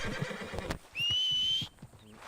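Horse in the Western video game Red Dead Redemption lets out a short whinny: a rising, sustained whistle-like neigh lasting under a second, loud and close over low rumbling game ambience and hoof-like thumps.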